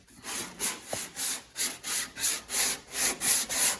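Rhythmic back-and-forth sanding strokes on Bondo body filler over a car dent, about a dozen steady scrapes in quick succession, close and fairly loud.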